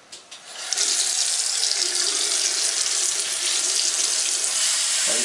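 Water gushes from a tap as a steady, close hiss that starts after a brief lead-in and runs unbroken to the end, with no talking.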